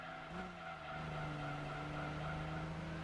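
A racing car in a video game braking hard and sliding sideways, tires squealing in a steady, drawn-out screech over a droning engine, close and fairly quiet.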